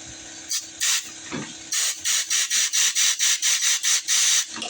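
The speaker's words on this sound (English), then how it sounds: "We want to take our compressed air, if we can get in here." A compressed air hose blows into a snow blower that won't start. A few scattered hissing blasts are followed by a quick run of about ten evenly spaced short bursts, close and loud.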